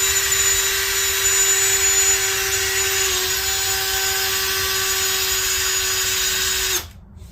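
A power drill fitted with a 15/64 bit bores into a Honda B18 engine block, a steady high-pitched motor whine holding for nearly seven seconds before cutting off abruptly, close and loud.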